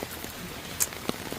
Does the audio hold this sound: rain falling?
yes